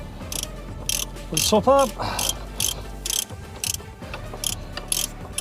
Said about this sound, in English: Next stage, I'm going to tighten these bolts up